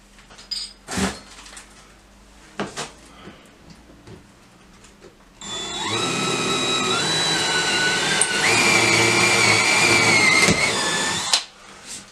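A power drill bores into wood for a dowel cleat, whining loud and close for about six seconds with its pitch rising as it spins up, after a few sharp knocks and handling clatter.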